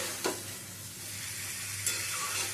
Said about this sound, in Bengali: এবারে পোস্তর সাথে ভালো করে এটা একটু কষিয়ে নিতে হবে